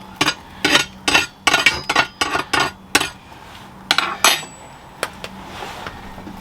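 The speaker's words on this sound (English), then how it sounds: "Any stragglers you can just, with a poker, push them under." A metal poker knocks and scrapes logs under the fire of a Skillcraft Inferno wood-fired pizza oven fitted with a log riser: a dozen sharp, close clanks in an uneven rhythm, then a few softer taps, with no talking.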